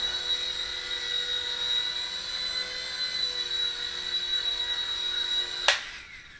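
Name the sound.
Silverlit Spy Cam II 3-channel RC helicopter flying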